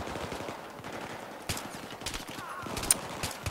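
Bursts of automatic gunfire and sharp shots crackle through a Battlefield 3 firefight, mid-level and continuous, with scattered louder reports over game background noise.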